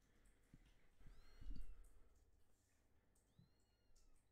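A cat meows a few times, quiet and somewhat distant, in a reverberant indoor space during a live home-camera session, with short low thumps and background hiss between the calls.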